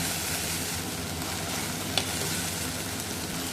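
Ginger garlic paste and onions sauté in a pan for a mushroom gravy, giving a steady, close, even sizzle with one faint clink of a utensil partway through.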